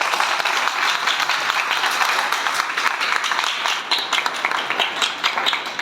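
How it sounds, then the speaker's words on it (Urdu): Audience applause at a prize distribution ceremony for probationers, dense steady clapping from many hands throughout, loud and close with no pauses. "ہم سب کو تالیوں سے داد دینی چاہیے"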